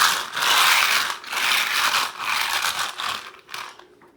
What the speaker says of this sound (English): I'm gonna start by scoring a patch on here, just with my little scorer